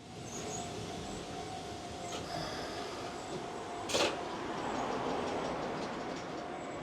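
A train rolls along near Fukuoka, Japan, heard from inside the carriage as a steady rumbling hum with faint rail clicks and a brief sharp hiss partway through.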